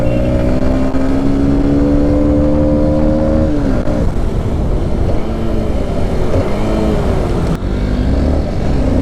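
An NK 150 dirt bike engine revs hard while riding, rising pitch climbing through a gear, dropping at a shift, then pulling up again; loud, close and continuous with wind rush.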